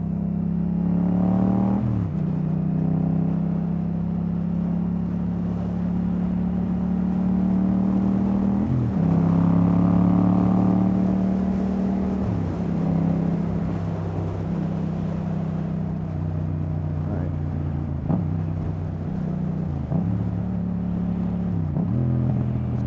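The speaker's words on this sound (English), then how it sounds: "the exhaust baffles are in." A Yamaha FZ-07 motorcycle engine with exhaust baffles installed drones continuously at close range, its pitch shifting up and down through repeated gear changes as it rides along at about 30 mph.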